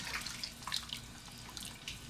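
Water pours from a tap into a stew pot with roast beef, a faint, steady splashing and trickling with a few drips, and no voices.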